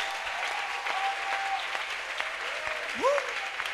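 A church congregation claps in praise of the Lord during a Sunday worship service in Akanda, steady crowd applause throughout, with voices and a brief rising cry over the clapping.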